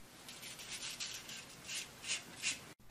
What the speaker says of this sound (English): Wrap fine sandpaper around the tip and ferrule, keeping it as flush as possible, and turn the shaft, applying light sanding pressure with your fingers.